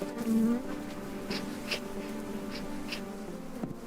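Honey bees hum around a large commercial apiary of hives, a steady low drone with several louder buzzing passes as individual bees fly close by.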